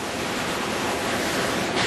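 Water pours steadily over stones at a small village stream near Antalya, a continuous broadband rushing hiss close to the microphone, with no voices.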